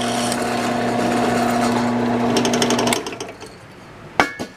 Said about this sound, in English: So I've drilled a hole in the backing plate and I've drilled a hole in the face plate